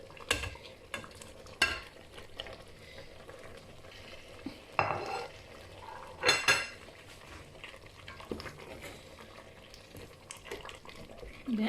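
Beef and dry fish going into a pot of Cameroon-style beans, with a spoon stirring and scraping, metal clinks against the pot and a soft sizzle, plus a few sharper knocks near the start and middle.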